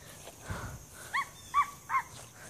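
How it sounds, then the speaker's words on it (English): A dog barks three times in a quick, evenly spaced run, faint and distant against a quiet background with no talking. "OMG, that's a dog."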